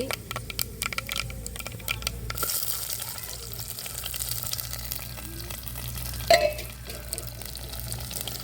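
Mustard seeds and fenugreek sputter in hot oil for a fish curry, a steady close crackle with faint pops and a louder clatter near the end.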